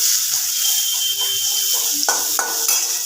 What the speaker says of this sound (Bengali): পেঁয়াজটা খুব ভালোভাবে ভেজে নিতে হবে একটু লাল করে